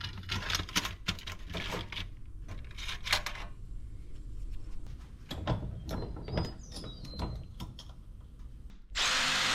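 Power drill with a 3/8 bit reaming out an undersized hole in an aluminum part, whirring in several short bursts at close range with clattering handling sounds between runs.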